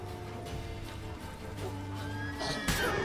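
A horse in The Witcher 3 whinnies over a game soundtrack while wolves attack, its neigh rising and falling as one clear call amid in-game noise.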